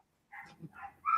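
A dog barks and yips a few times in quick succession at moderate volume, with short gaps between the calls and no one talking over it.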